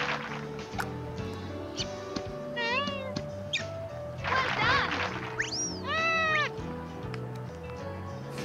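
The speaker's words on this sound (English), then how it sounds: "They just make cat noises." Cartoonish cat meows from the Hot Shots Golf video game, several short rising and falling mews over background game music.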